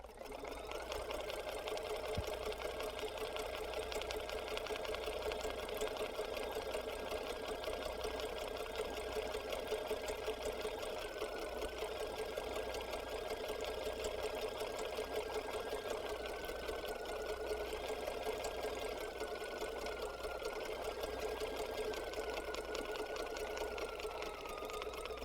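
Domestic sewing machine stitching a dense satin stitch on a quilt block, running steadily and continuously at close range for the whole stretch, with no talking.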